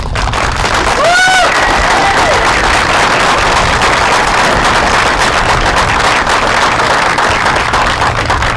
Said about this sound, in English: let's give a round of applause to all of our students